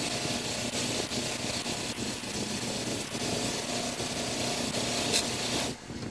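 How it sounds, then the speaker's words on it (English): A fine brass wire wheel scrubbing the metal of a single action revolver, a continuous close rasping whir that cuts off abruptly near the end. "That's why I had to get this brass wire wheel, which is a fine coarse wire wheel."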